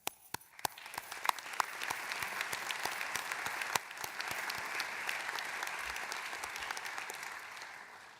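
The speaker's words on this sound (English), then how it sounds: "Let us all give a big round of applause to all the graduates" An audience at a university graduate commencement ceremony applauds the graduates, opening with a few sharp individual claps before swelling into sustained, fairly distant clapping from a large crowd that continues evenly throughout.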